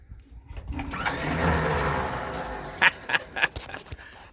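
An Allis Chalmers HD20 crawler's engine cranking over for a first start, a rising mechanical whir and grinding that fades, then several sharp knocks and clanks toward the end, close by.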